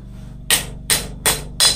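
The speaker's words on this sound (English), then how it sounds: "you can get it all down pretty good just by hammering on it here." Hammer striking metal on an anvil while forging a sculpture outdoors, four loud sharp ringing blows spaced roughly every third of a second, close and alone with no talk.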